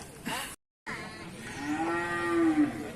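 Cattle or water buffalo low at a busy livestock market: a short call, a brief gap, then a long drawn-out moo rising over the nearby background murmur.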